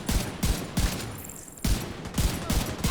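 Rapid bursts of gunfire in the video game Division 2, sharp repeated shots in quick clusters with a short gap in the middle, loud and close.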